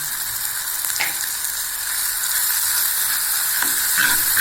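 Sautéing ingredients sizzle steadily in a pan for fenugreek kuzhambu (vendhaya kulambu), a continuous close frying hiss with a few faint clicks of stirring and no talking.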